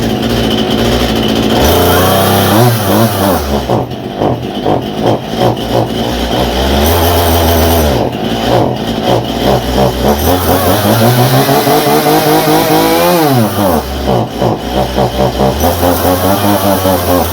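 Stihl MS171 chainsaw engine running with a carburetor problem and a choke that won't kick off, loud and continuous with rising and falling revs, alone without talk.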